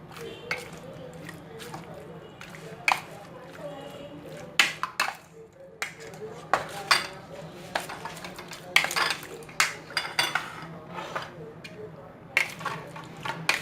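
Pieces of fish are stirred through a marinade for a finger fish fry. Soft squelching and mixing run steadily, broken by frequent sharp clinks of a utensil against the dish, close by.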